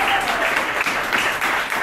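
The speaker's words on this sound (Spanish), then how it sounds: "Un aplauso, Glenn." Audience applause welcoming a guest speaker at a striking event, dense, sustained clapping with slight swells, near and loud.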